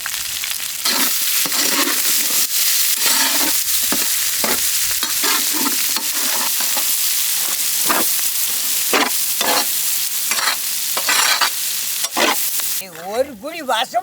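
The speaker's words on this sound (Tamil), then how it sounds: "கறி நல்லா பொறிஞ்சு வந்தோமுக்கா." Buffalo tongue meat fries and is stirred in a pan for a village pepper fry, with loud continuous sizzling broken by repeated scraping, stirring strokes throughout.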